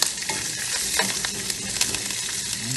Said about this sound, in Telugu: అన్నీ వేసి ఆవాలు చిట్టుపట్లు వేయాలి కదా